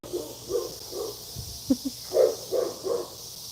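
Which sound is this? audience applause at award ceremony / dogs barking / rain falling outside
dogs barking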